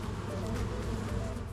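Drone honeybees buzz at an open hive during an inspection. The buzzing is a dense, steady, close drone with no break across the brief moment.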